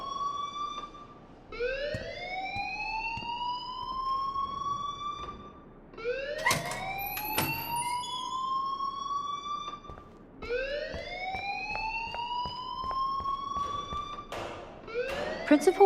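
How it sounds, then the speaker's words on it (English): A wailing alarm in the Life is Strange video game rises in repeated swooping sweeps, about four cycles, loud and steady with sharp clicks near the end and no talk over it. "please turn off that alarm since that's your job"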